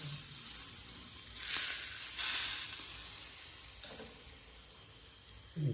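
A spice mix for homemade Khandeshi raw mango pickle fries in hot oil with a soft, constant sizzle and hiss, swelling briefly louder a couple of times as more is added, fairly faint and without speech.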